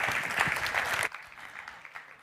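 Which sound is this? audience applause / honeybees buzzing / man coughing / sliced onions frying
audience applause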